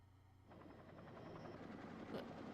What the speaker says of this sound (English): He wants me to ride a helicopter with him?